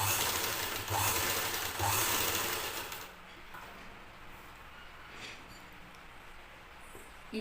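A sewing machine stitches a blouse sleeve along a marked line, running as a steady close whir, louder for the first three seconds and then quieter and softer with faint irregular knocks.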